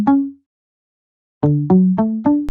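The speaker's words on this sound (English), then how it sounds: "We also have in the introduction a mute guitar playing." A muted guitar preset in the intro of a hip-hop beat plucks short, damped notes: one lone note, a pause, then four quick plucks in a row, close and clean with no voices.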